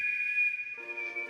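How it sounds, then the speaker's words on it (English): A steady, high whistled tone from the video game Remothered: Broken Porcelain holds for over a second, with a lower tonal layer joining partway through, clear and alone with no talk. "That whistling gets to be a little annoying."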